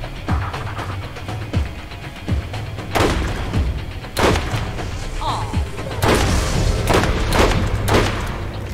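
Weapon gunfire in the video game Borderlands, sharp shots and booming bursts fired in irregular volleys over several seconds, with a person talking underneath.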